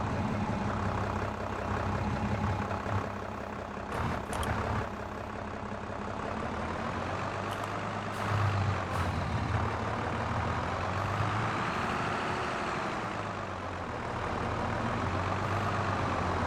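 A lorry engine in a farm simulator game drones and idles steadily throughout, heavy and low, with a few brief airy hisses midway and no talking.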